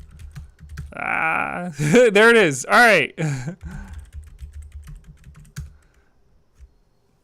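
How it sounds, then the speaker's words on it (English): Fingers rattle over a computer keyboard in quick, dense bursts of keystrokes for a few seconds while someone writes Django code, with a voice speaking briefly before and after. "Just typing in random stuff off the internet."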